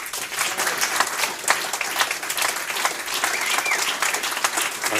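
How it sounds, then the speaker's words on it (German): Audience at a general assembly applauding to confirm an honorary membership and certificate, dense steady clapping from a full room lasting throughout. "mit den Besucherinnen und Besuchern die Urkunde und die Ehrenmitgliedschaft mit einem kräftigen Applaus bestätigen"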